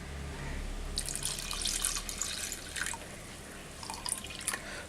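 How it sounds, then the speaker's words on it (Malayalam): Milk poured into jackfruit payasam, a close pour with light splashing and dripping in irregular bursts over a steady low hum, with no voice. "ഇനി ഞാൻ കുറച്ചും കൂടെ പാലൊഴിക്കണേണ്."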